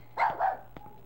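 Dog barking in the 2006 video game Rule of Rose: a couple of short, mid-pitched barks close together, followed by a fainter yip, over a low steady background hum.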